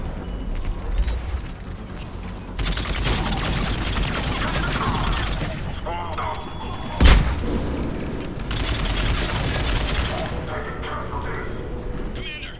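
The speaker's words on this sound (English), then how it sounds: "Commander, we're getting a lot of mortar fire." Mortar fire and explosions in Mass Effect 3 roll on as a dense roar of battle, with steady gunfire and one sharp, heavy blast standing out midway, loud and close.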